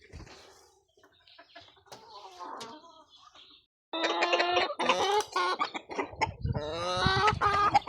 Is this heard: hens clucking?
yes